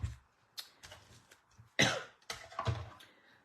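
Several dry coughs come in quick bursts, close and fairly quiet, with short pauses between them.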